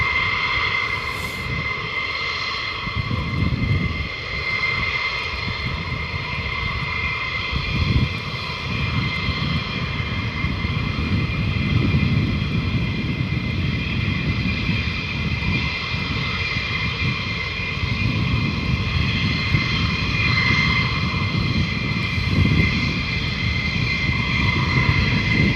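F-15 Strike Eagle fighter jets fly over RAF Lakenheath, producing a loud, continuous engine roar that holds steady and swells slightly over nearly half a minute, with no talking.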